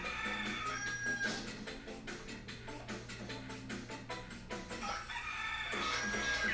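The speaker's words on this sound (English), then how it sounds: "There's so many roosters." Roosters crow repeatedly in the video game Katamari Damacy, with several overlapping cock-a-doodle-doo calls and clucks laid over a busy, rhythmic game soundtrack.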